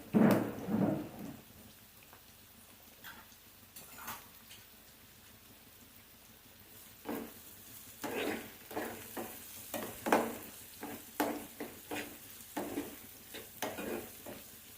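Chopped onion and ingredients for an egg pulusu fry in a pan, a soft low sizzle with scattered stirring scrapes that grow busier toward the end, fairly quiet throughout.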